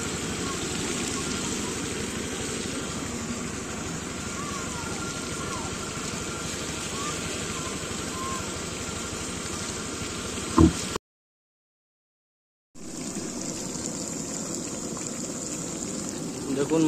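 Meat curry cooks in a pot at an outdoor picnic, a loud, steady bubbling and hissing roar that cuts out briefly and then returns.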